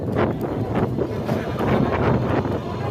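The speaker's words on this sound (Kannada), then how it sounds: "ಗಾಳಿ ಸೌಂಡ್ ನಿಮಗೆ ಕೇಳಿಸ್ತಿದೆ ಅಲ್ವಾ." Strong sea wind buffets the microphone near Vivekananda Rock just after stepping off a launch boat, a continuous loud rumbling roar with gusty swells.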